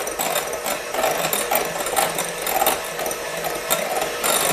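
An electric mixer whirs continuously as it beats egg whites with the yolks being folded in, giving a steady buzzing drone with a faint rhythmic rattle, heard alone without talking.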